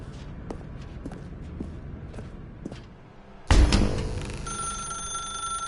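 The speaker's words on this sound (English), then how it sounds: "Now pick up the phone." Soft footsteps tread for a few seconds in The Stanley Parable video game, then a loud telephone bell bursts in abruptly and keeps ringing close by.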